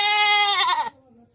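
A goat bleats once, loud and close, a drawn-out wavering cry that breaks off abruptly, leaving a faint low background.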